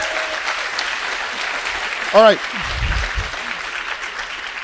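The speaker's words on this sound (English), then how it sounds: "we want to send her off with a big applause" An audience at a research slam event applauds for a retiring colleague in a continuous, dense wash of clapping, with someone briefly speaking over it partway through.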